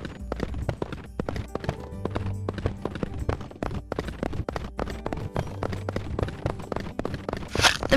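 Rhythmic clip-clop of horse hooves trotting steadily on a hard surface in the video game Barbie Horse Adventures: Wild Horse Rescue, close and continuous, with a brief bright rush near the end.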